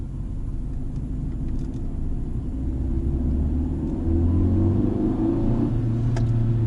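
A Fiat Egea Cross with its 1.4 petrol engine pulls hard in second gear, a loud, close cabin drone that climbs steadily in pitch as the revs rise, with no talk over it.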